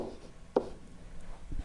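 Marker or chalk writing on a board during a geometry lesson on triangles: faint, soft scratchy strokes with one sharper tap near the middle, set against a quiet room and with no talking.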